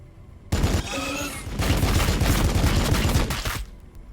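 Heavy armor in Warhammer 40K: Battlesector lets loose a dense volley of gunfire, sudden and loud, holding for about three seconds before it cuts off.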